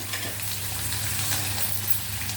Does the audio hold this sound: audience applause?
no